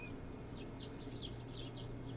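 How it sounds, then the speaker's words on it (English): Birds chirping somewhere up in the trees outdoors, a faint scatter of short high tweets and calls over a steady low background hum, no one talking. "the birds are somewhere up there. You can hear them."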